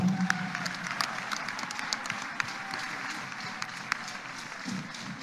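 A church congregation applauds Jesus of Nazareth, a steady patter of many hands clapping at moderate distance, fairly soft and continuous throughout.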